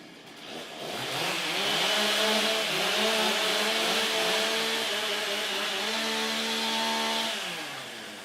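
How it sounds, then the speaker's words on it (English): STIHL chainsaws are warmed up on stage at a timbersports championship, several engines revving together in a loud, sustained whine with rising and falling pitch and no talk over them. "warm up your saws"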